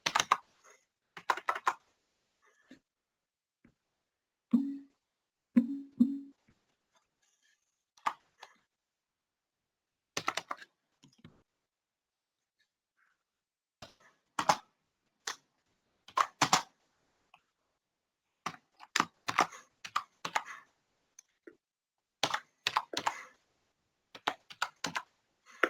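Keys clatter on a computer keyboard as someone types into a chat box during an online interview, coming in scattered short bursts separated by long quiet gaps, close and moderately loud.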